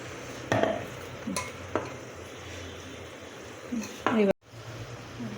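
Rava dosa batter being stirred in a bowl with a spoon, heard as a few short scraping clinks spaced irregularly, fairly close and quiet over low room hum, with one abrupt cut near the end.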